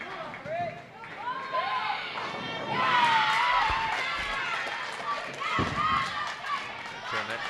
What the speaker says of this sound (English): Turn that crowd noise a little bit, turn that down a little bit